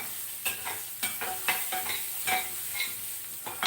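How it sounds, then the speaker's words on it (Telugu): Green chillies and ginger fry in a pan for dadhojanam, a steady sizzle broken by several sharp stirring scrapes at an uneven rhythm, close and fairly loud with no talking. "వేయించేస్తాం."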